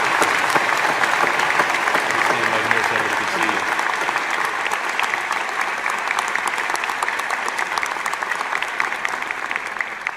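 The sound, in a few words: applause for honorary doctorate recipient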